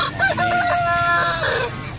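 An Asil rooster at an outdoor livestock market in Angeles crows once, a loud, close, drawn-out call that fades toward the end over market noise.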